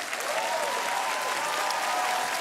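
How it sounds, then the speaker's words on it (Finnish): Audience applause from a live studio crowd in Tampere at a Finnish music show, a dense, steady wash of clapping sustained throughout at even loudness, with no talk over it. "Rakkautta sulle ja isot aplodit koko yleisöltä."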